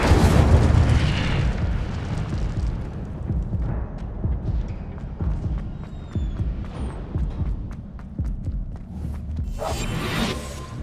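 Incendio fire spell in Hogwarts Legacy: a loud burst of fiery whooshing and booming at the start that fades away, followed by smaller impacts and another rushing burst near the end.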